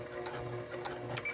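A sewing machine stitching mesh fabric for a laundry bag, a short burst of quick rhythmic needle clatter heard up close, with no talking.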